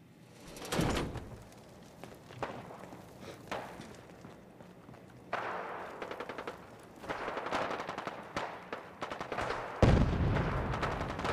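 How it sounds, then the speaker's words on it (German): Gunfire from the video game Fallout 4 rings out ahead in separate bursts of rapid shots, fairly quiet and spread over several seconds, with short gaps and a heavier blast near the end. "Oh, vor uns wird geschossen?"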